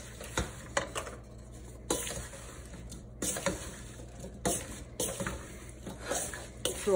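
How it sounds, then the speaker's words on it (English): Apple pie filling with sugar, salt and vanilla is stirred in a pot, giving soft scraping and squishing strokes in repeated bursts with brief pauses, close and moderately quiet, with no talking. "Let's give this a good stir."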